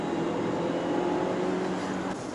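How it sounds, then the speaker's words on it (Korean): A Lincoln Corsair compact SUV with a 238-horsepower inline four-cylinder turbo gasoline engine pulls hard on kickdown, giving a steady, fairly quiet engine drone and road roar heard from inside the cabin. "가속 페달을 꾹 밟아서 킥다운을 걸고 움직이면 아주 민첩하게 반응을 합니다"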